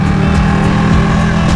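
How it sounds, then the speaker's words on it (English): Loud, steady exhaust note from a 2019 Ducati 959 Corse motorcycle idling or running in first gear, close by, a continuous low rumble with no talk over it. "Let everybody hear that exhaust"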